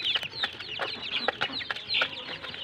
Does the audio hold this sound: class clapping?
no